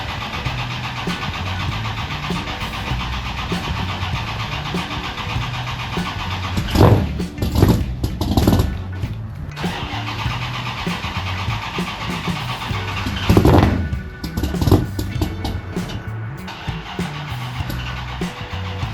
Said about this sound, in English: what you're about to witness is a guy trying to start a car, and he forgot that it had a manual choke.